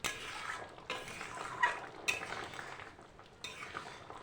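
Egg and potato curry stirred in a pot, a spoon scraping and sloshing through thick gravy with a few sharper knocks against the metal rim, soft and close over a low kitchen hiss.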